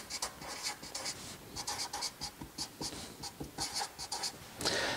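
A pen writes a number by hand on paper in quick, rhythmic scratchy strokes, close and quiet, with short pauses between strokes and no talking.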